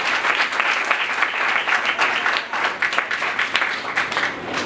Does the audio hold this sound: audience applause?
yes